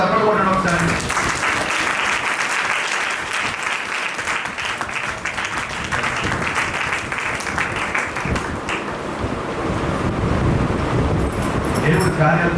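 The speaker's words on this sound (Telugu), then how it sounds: "అందరూ చప్పట్లు కొట్టండి ఒకసారి" A congregation at a Sunday worship service claps together in dense, sustained applause that runs the whole way through, with a voice speaking over it.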